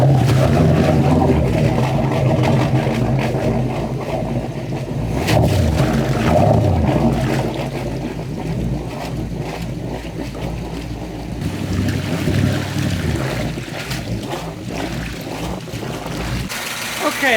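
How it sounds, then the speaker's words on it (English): Port big-block engine on an old twin-engine yacht runs at idle, a steady low rumble with a faint tick, loud and close, shifting in level partway through. "We got the port engine going. Listen to this thing run."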